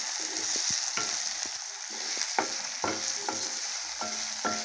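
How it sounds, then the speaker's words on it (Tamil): Shallots sizzle and fry steadily in a hot pan for pepper chicken, with repeated scraping and stirring clicks from a spatula throughout. "நல்லா வதக்கி விடுங்க"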